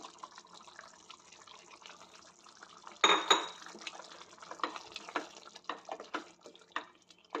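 Prawns are tipped into a pan of oily curry with a sudden wet clatter, followed by intermittent scraping and sloshing as the mixture is stirred, close and fairly quiet.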